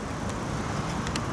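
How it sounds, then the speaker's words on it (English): Heavy road traffic rumbles steadily nearby, a continuous low roar of passing vehicles with a few sharper hiss bursts from cars going by. "Very noisy traffic."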